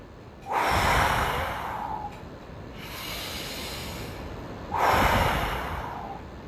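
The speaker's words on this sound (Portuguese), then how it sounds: "a respiração," A person demonstrates deep breathing, taking two long, loud nasal inhales close to the microphone, each followed by a slower, quieter exhale.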